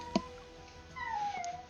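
A dog lets out a short, high whimper that slides downward, close and fairly clear after a brief knock.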